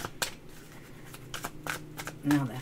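Soft, quick flicks and riffles of tarot cards being shuffled by hand, several short bursts spaced irregularly, fairly quiet and close.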